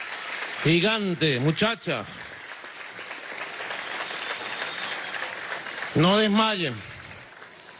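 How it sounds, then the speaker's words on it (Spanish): Applause for Olympic medallists at a state ceremony, bursts of clapping swelling and fading through the clip while someone speaks loudly over it at the start and again near the end. "Desde aquí vamos a darle un aplauso a Yulimar Rojas, medalla de plata."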